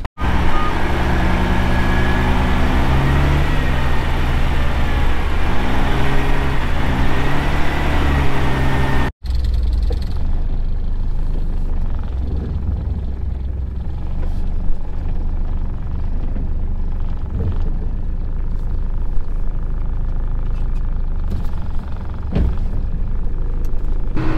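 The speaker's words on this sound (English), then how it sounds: "We're reversing the truck out, we're hooking back on, and then we're heading back down so we don't make any noise." A farm truck on a Western Australian property during barley seeding, reversing out and hooking back on: a steady, loud engine drone with a faint reversing beep, an abrupt cut partway through, then continued engine rumble with no talk.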